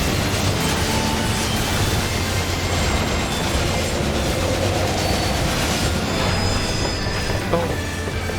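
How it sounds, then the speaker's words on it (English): The Phantom Train in Final Fantasy XIV, a continuous loud rumbling rail clatter with grinding metallic tones, steady and close with no voices. "The Phantom Train. That's what this thing is called."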